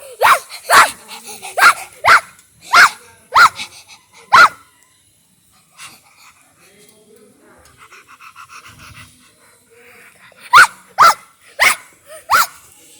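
Dog barking in sharp repeated bursts, a fast run of yaps near the start, a pause filled with panting and faint voices, then another quick volley of barks.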